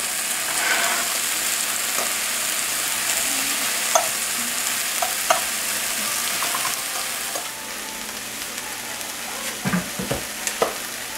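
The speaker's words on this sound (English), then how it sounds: "We have to turn the onion a few times so that it gets brown on both sides, and wait for the meat to cook." Onion and pork steak fry in a pan for a donburi, giving a steady, fairly loud sizzle with occasional pops and crackles and a few clacks of a utensil turning the pieces, all without any talk.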